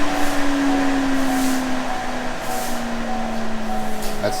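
An electric radiator cooling fan on a Corvette Z06 whirs steadily after the car is parked, a constant hum with a sustained tone and broadband airflow noise throughout.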